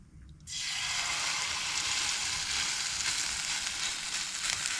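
Rava-onion bhakri frying in oil on a hot pan, a steady bright sizzle that starts abruptly and holds evenly throughout, close and fairly quiet with no talking.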